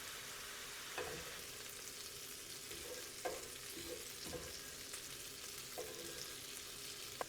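Shrimp sizzle in a pan for honey garlic shrimp bowls, a faint, steady frying hiss with occasional soft scrapes and clinks of stirring.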